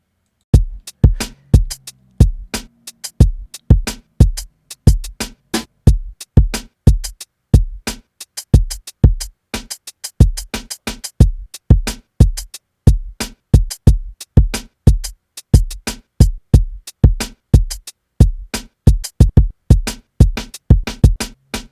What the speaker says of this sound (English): so that's the drum beat I got.